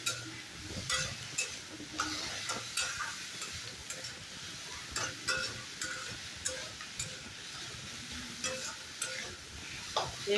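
Banana stem (thor), chopped fine with onion, salt and turmeric, fries in a pan, stirred with steady scraping clicks over a soft continuous sizzle, close and moderately quiet.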